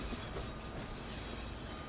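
A Metro railcar in the Train Sim World 3 game runs along a New York to Trenton line rail yard, a quiet steady rolling rumble with faint wheel squeal and rail noise throughout.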